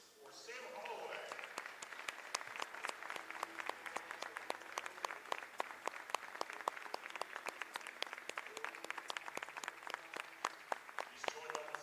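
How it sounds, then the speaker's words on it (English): Arena crowd applauding for Sam Holloway at a women's college basketball game, sustained clapping in a steady, partly rhythmic pulse, moderately distant and reverberant, with crowd voices and an announcer-type voice beneath. "Ladies and gentlemen, big round of applause"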